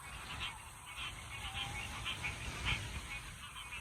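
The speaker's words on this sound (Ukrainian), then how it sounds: "Диви, всі качки за нами біжать." Several ducks give quacking, honking calls in quick overlapping bursts while running, with a muffled background rumble.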